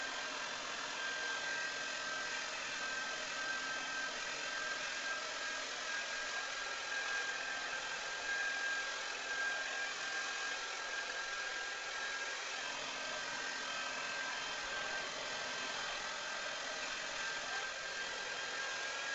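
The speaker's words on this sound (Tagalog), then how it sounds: "Ganda lang yung pag-blower ko kasi hindi ako marunong yung talagang super blow dry" Hair blow dryer running continuously at close range, a steady loud whirring hiss with a faint constant whine that holds unchanged for about twenty seconds, with no speech.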